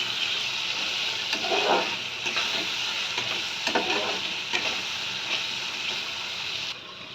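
Butter sizzles in a pan of tomato and spice masala for butter chicken, a steady bright frying hiss broken by a few louder bubbling bursts and stirring scrapes, with no voices.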